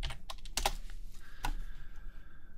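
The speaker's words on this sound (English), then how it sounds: "so we just need to type in VGA" Keys on a computer keyboard are pressed in a short, quick burst of close clicking strokes, followed by a brief pause and one or two more taps, with no voices present.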